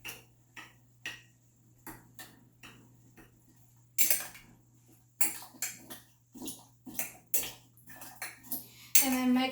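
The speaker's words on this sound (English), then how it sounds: "I'm going to kind of stir this up just a little bit." A spoon stirs chopped apples in water in a jar, producing a series of light, irregular clinks and taps against the glass with soft splashes, growing busier toward the end.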